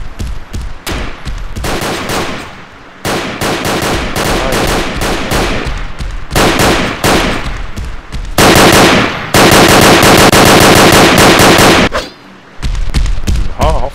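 Gunfire in the Tactical Rebels browser shooter game: loud, dense bursts of rapid automatic fire in long runs, separated by brief pauses.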